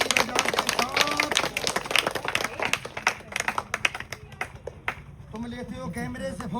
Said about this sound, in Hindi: ताली बजाते साथ